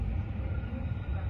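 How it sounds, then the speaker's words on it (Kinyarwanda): A train running through London at night, heard as a steady low rumble and rolling drone that holds constant throughout, fairly close, with no distinct horn or squeal. "Iyo ni gari ya moshi ngiyo iragenda"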